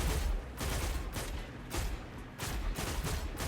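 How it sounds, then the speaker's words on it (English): Shotgun blasts fired in a video game, a dense run of loud booming shots packed closely together with only brief gaps, heard with no talking. "I want to take a look at how much damage I do with a shotgun blast"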